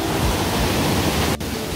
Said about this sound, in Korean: 바로 저기가 폭포예요, 폭포.